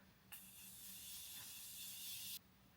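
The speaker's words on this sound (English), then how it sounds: "Okay, I'm gonna spray my face." A single continuous spray hiss from a mist bottle, held steady for about two seconds, close and clear against a quiet background.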